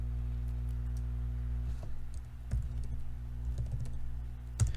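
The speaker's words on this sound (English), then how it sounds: "So I'm just typing the flat shot command at the command prompt." Keystrokes on a computer keyboard as a drawing-software command is typed, a quiet scattered run of light clicks over a steady low electrical hum.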